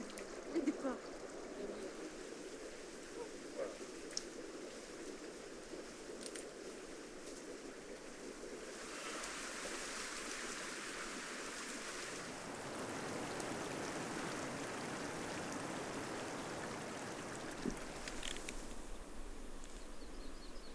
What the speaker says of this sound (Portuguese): lavar melões no rio é mais do que uma tarefa, é um ritual